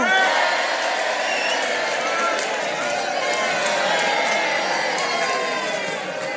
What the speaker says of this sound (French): on applaudit Martine et les tweetos